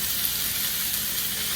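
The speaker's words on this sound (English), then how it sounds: "Always nice to hear that sizzle." Hot oil sizzles and crackles steadily in a skillet, a bright continuous hiss heard up close with no voices.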